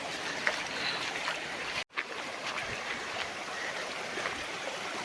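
A small hill stream swollen in the rainy season flows with a steady rushing, bubbling wash of water, close and continuous, interrupted by a brief cut near the middle.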